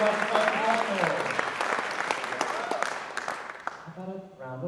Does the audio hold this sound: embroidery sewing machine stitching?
no